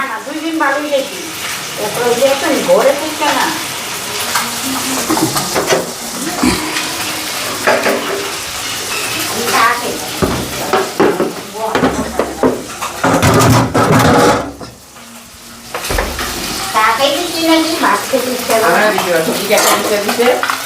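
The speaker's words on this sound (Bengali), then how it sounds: "তো এদিকে মাছগুলি আর একটু ভাজা হইব।" Fish sizzles and crackles steadily in a hot pan, with utensils clinking and stirring against it and a few brief pauses.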